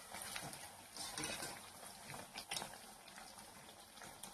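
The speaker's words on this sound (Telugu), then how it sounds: "ఒక 2 నిమిషాలు ఆయిల్లో ఫ్రై అవనిద్దాం." Bottle gourd fritters (sorakaya appalu) fry in hot oil with a steady, dense sizzle and crackle that stays fairly quiet and continuous throughout, with occasional louder pops.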